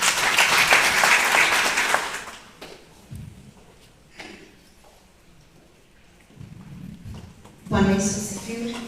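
A church gathering audience claps in a strong burst that fades into quieter scattered clapping, then a voice begins talking over the room.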